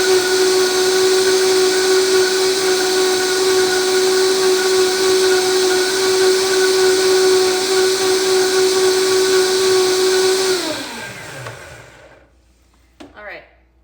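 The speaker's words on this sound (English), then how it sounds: "I've got the Vitamix blender top, and we'll just blend this up" A Vitamix blender whirs steadily as it blends a raw vegan sauce, a loud high whine that holds level for about ten seconds, then winds down and stops, followed by a few faint clinks.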